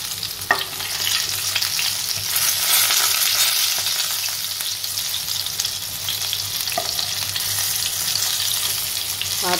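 Stuffed small eggplants (baingan) pan-roast in masala with a constant gentle sizzle and occasional soft stirring and turning knocks, close and even, without talk.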